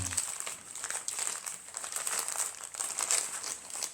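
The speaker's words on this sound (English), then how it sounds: "I would put it back in the plastic bag that it came in" Plastic bag crinkles and rustles continuously near the microphone, a busy crackling texture with no talking, as a steel fire starter kit is packed away.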